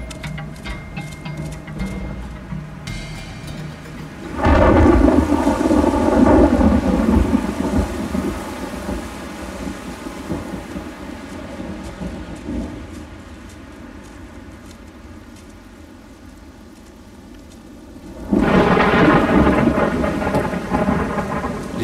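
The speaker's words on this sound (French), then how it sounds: "L'orage approche." Thunderstorm approaching at high altitude in the African mountains, with heavy rain hiss and rolling thunder swelling loud twice over a steady downpour, no voices.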